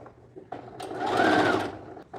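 A sewing machine runs a French seam on a lined child's dress with a yoke ruffle, whirring up to a steady fast stitch and easing off after about a second.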